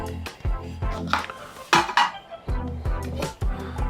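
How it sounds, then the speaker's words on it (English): Metal camping cookware from a go bag, a small pot, a frying pan and a metal plate, clanking and clinking together as they are handled, a string of close, sharp knocks and rattles with no talking. "So we got a small little pot. We got a frying pan. We got a metal plate that we can eat off of."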